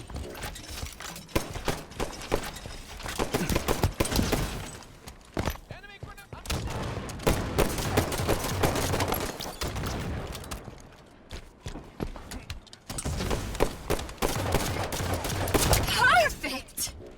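Hydra rocket volleys in a multiplayer shooter video game, rapid bursts of sharp explosive pops fired in quick spammed clusters with splash blasts, loud and dense, with short gaps between salvos and a voice talking over parts.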